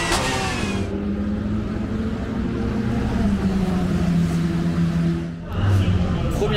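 Race car circling the Misano circuit in France's UCS 2022 round: a sustained engine drone holds steady, rising in pitch as it accelerates, then dips briefly and surges again near the end, with a voice talking over part of it.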